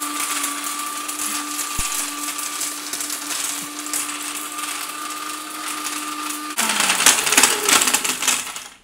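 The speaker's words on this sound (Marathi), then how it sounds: "दगड क्रश करणारा मिक्सर बघूया।" An Oorja Electronic mixer grinder crushes stones, a loud whining motor with a harsh rattling clatter of stones bouncing in the jar, growing rougher and louder near the end as the speed changes.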